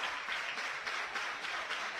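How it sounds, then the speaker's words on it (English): Softball fans clapping in the stands at an Oklahoma vs Louisiana college game, a steady dense wash of crowd applause, fairly loud and continuous, with no talk over it. "Fans, they're reared up, ready to go with all the claps."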